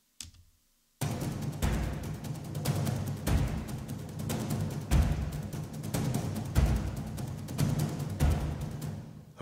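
Ensemble of epic frame drums from the 8DU sample library beating out a dense cinematic percussion pattern, loud booming low hits with rolling accents after a brief quiet start, no voices.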